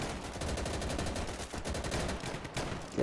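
Rapid gunfire rattles without a break in the World War II shooter Easy Red 2, with bursts of machine-gun fire and single shots overlapping in a loud, continuous battle.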